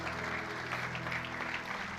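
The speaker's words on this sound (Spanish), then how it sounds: "quiero que me dé un fuerte aplauso a cada joven que está sirviendo en producción y media" Church congregation applauding during a service, moderate steady clapping from a crowd over a sustained low hum, lasting a couple of seconds.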